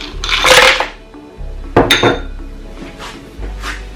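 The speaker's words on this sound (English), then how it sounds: "Then I'll add my ice cube." An ice cube dropped into a blender jar holding blueberries, lemon juice and fiber, a loud close hard clink and rattle against the container, followed by a few smaller knocks.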